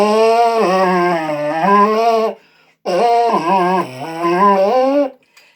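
A flute body played with a trombone mouthpiece gives a buzzy, reedy tone with a wavering, sliding pitch in two long phrases separated by a short pause, loud and close, with no voices.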